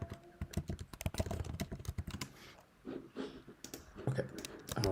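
Fast typing on a computer keyboard, dense bursts of close key clicks that pause briefly and resume, with faint mouse-like clicks and no talk over it.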